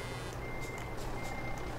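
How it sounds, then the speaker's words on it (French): A truck in Euro Truck Simulator 2 gives off a steady series of reversing beeps, repeating evenly over a constant engine rumble at moderate loudness. "c'est chiant, le camion il recule tout seul"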